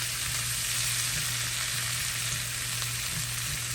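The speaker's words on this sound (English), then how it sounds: "we're just gonna let that broccoli cook. I want it to brown and get a few little crispiness on the bottom" A pound of broccoli fries on high heat in a hot pan, sending up a steady, loud, close sizzle with no pauses and no voices.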